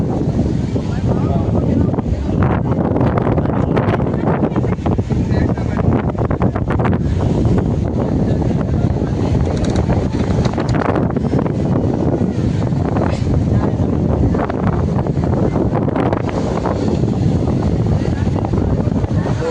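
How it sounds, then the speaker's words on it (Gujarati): Strong seaside wind buffets the microphone steadily at a beach near Dwarka, a loud, continuous rumbling roar with possible surf underneath, and a voice speaks over it. "મસ્ત વાયરો આવો."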